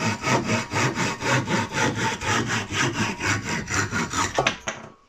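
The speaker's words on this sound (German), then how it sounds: "Bei dieser großen Säge empfiehlt sich das Ganze natürlich, so wie ich das jetzt auch mache," A Ryoba Japanese pull saw from Kaufland cuts through wood with two hands, making a loud, close, rhythmic rasp of about twenty even strokes that ends abruptly as the cut finishes, with no talk.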